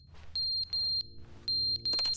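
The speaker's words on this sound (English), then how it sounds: "That's a smoke alarm." High, piercing electronic beeps from a smoke alarm in the game The Stanley Parable come in pairs, four chirps in all, loud and close. A short clatter lands at the very end.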